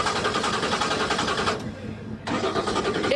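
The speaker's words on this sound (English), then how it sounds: "I'm going to have you go ahead and start this engine." An American muscle car engine cranks and catches at a car show, roaring loudly and steadily, dropping briefly before surging again in a hard rev.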